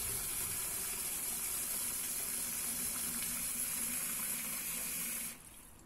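Cold water pours steadily into a pan while making a Moroccan seffa, a continuous close gushing splash that stops abruptly at the end.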